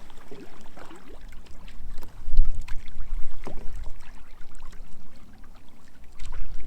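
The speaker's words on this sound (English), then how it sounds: "as we're paddling out" A canoe paddled through cold late-fall water on a fishing trip: soft splashes and trickling swirls from the paddle strokes, with a fuller splash about two seconds in, close and steady, no voices.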